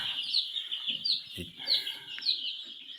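Andijon black chicks in a propane-heated brooder, cheeping in rapid, high, repeated calls that overlap steadily, with a brief low voice in the background.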